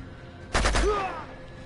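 Gunfire in the Uncharted 2 video game: a single sharp, loud shot burst with a short ringing tail, standing alone against quiet background sound.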